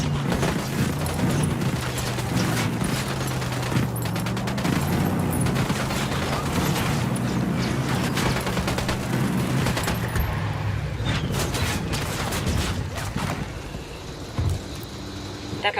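Gunfire in Ghost Recon Wildlands rattles in dense, rapid bursts over a low engine rumble, loud and continuous for most of the stretch before thinning out near the end.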